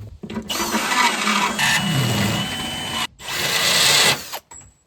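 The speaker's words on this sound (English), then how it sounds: "I'm going to use this little die grinder 1/4 inch end in my drill to try and take these holes" An electric drill fitted with a quarter-inch die grinder bit whines loudly while enlarging holes, in bursts with a short pause midway, then winding down to quiet at the end.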